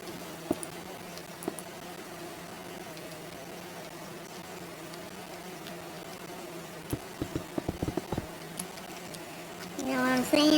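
Honeybees buzzing around apiaries in Minecraft make a steady, quiet drone that runs through the whole scene, with a few soft clicks and game noises scattered over it and a brighter burst of sound near the end.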